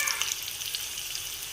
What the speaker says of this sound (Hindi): इसमें प्याज डाल देंगे, चॉप किए हुए, कटिंग किए हुए। प्याज को करेंगे लाइट ब्राउन।